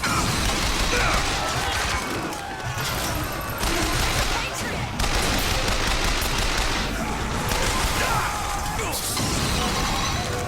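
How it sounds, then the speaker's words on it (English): Sustained gunfight from Bioshock Infinite, with dense bursts of rapid automatic fire and crashing impacts running continuously, loud and close throughout, with voices partly audible under the shooting. "There's a gunfight over here"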